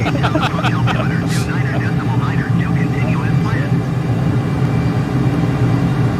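Airplane engine drone from a light aircraft in Microsoft Flight Simulator over Monument Valley, a steady loud hum throughout with faint chirpy sounds layered on top.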